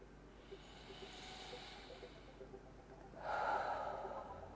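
Slow, deep breathing during a guided tapping exercise, a soft steady airy inhale followed by a fuller, louder breath near the end, close and alone against a quiet low background hum.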